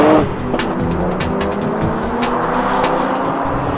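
A BMW 1 Series M Coupe with a twin-turbo straight six drifts sideways, engine roaring loud and close with tires squealing and scrubbing across the surface throughout.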